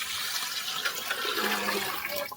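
Water pours into a cooking pot in a short, steady gush that runs for about two seconds before cutting off, close and fairly soft.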